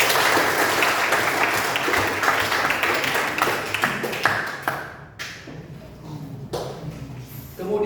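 A classroom full of people clapping together, a loud burst of applause that thins out and fades over several seconds.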